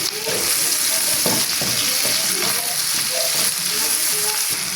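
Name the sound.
sautéing colored and green bell peppers in a pan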